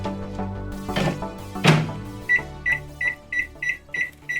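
A 700-watt microwave oven has its door shut with a thunk and its time keyed in with a rapid run of sharp electronic beeps.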